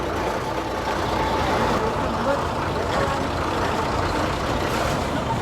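An MSRTC bus on the Kinwat to Amravati route rumbles along, with a steady engine drone and road noise filling the cabin throughout.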